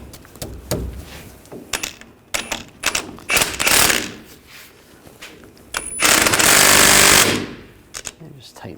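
An impact gun drives a front lower ball joint nut tight on a 2014-2018 GMC Sierra 1500 in loud, rattling hammering bursts. The bursts come in short stutters and then one long sustained run near the end, with some talk between them.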